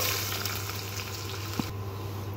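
Chopped onion pieces dropped into hot oil with cumin seeds, a continuous close crackling fry with a brief clack of a utensil partway through.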